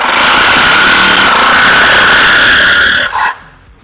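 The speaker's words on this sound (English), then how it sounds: "Sawzall is your friend on this install." A Sawzall reciprocating saw cuts through the stud shaft on top of a Cherokee XJ shock whose nut is stripped. It makes a loud, steady, high buzzing drone that stops abruptly at the end.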